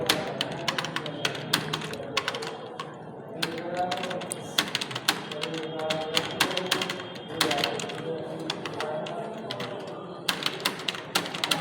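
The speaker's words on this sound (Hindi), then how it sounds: "बहुत फास्ट हिंदी टाइपिंग करते हैं" Fast Hindi typing by a computer operator on a computer keyboard: a dense, rapid clatter of keystrokes that runs without a break, close and crisp, with a faint voice murmuring underneath.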